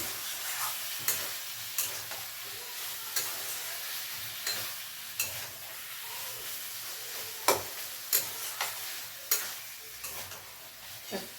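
A fish head fries in a pan under a low, quiet sizzle, while a spatula scrapes and taps it in a loose, repeated rhythm of short knocks.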